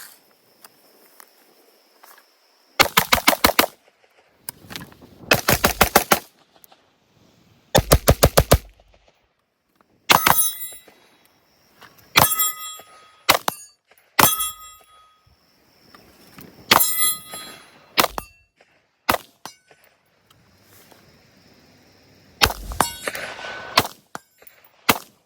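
Rapid bursts of gunfire from a Palmetto State Armory AR-15 rifle, loud and close, in several quick strings with gaps between, some followed by ringing metallic clangs.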